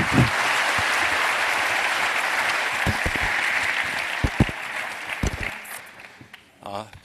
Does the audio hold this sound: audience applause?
yes